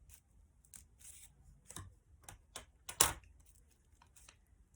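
A few sharp snipping crunches of scissors cutting paper, close up and spaced irregularly, with one louder cut standing out.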